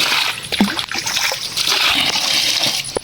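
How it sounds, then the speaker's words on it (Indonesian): Food being washed by hand in water at an outdoor village washing spot, with steady splashing and sloshing close by and a few sharp splatters throughout. "Tuh kita dicuci dulu"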